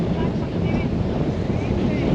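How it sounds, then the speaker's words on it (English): Strong gusts buffet the microphone on a boat on the Norfolk Broads, a steady, loud roar of wind with water noise beneath it that continues without a break throughout. "Oh my word, that wind."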